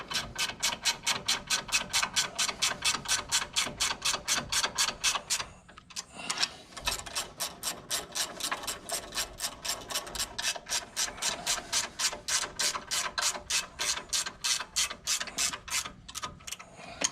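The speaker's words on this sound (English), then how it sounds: "We're just going to snug them up with a wrench." Close, rapid ratcheting clicks from a wrench tightening the preload nuts on Fox 2.5 coilovers for a second-gen Tacoma, repeating in steady back-and-forth strokes with a brief pause midway before continuing.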